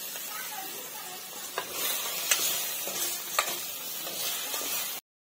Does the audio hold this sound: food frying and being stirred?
yes